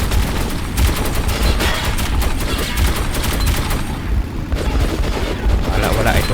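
Gunfire in the video game Metro 2033 Redux, a dense, loud stream of rapid shots and booming blasts, practically continuous, with speech mixed in among the firing.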